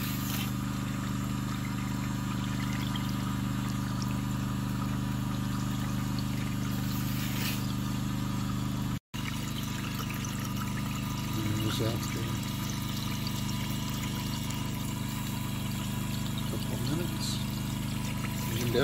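A water vortex separator runs continuously, cleaning flour gold concentrate from a 50-pail cleanup with a steady pouring, trickling wash of water and a pump-like hum, while a person talks over it.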